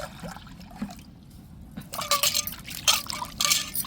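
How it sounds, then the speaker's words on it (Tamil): Peeled prawns being rinsed in water for a prawn curry, with soft splashing and trickling from close by that grows louder in bursts after a quiet start, with no talk. "இப்போ அலசி நல்லா எடுத்துருவோங்க இறாலை."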